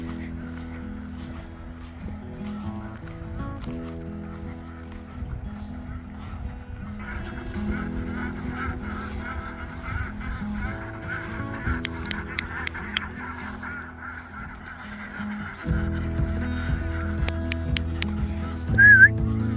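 Ducks on a small homestead farm quack and honk in repeated bursts, fairly close, with calls overlapping across the whole stretch and a louder flurry near the end.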